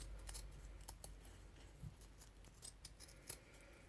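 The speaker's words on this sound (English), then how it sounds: "Now I'm just going to use my scissors, and I'm going to trim around my heart" Scissors trim paper around a heart shape in a Valentine's craft, giving a few soft, close snipping cuts spaced irregularly against a quiet background.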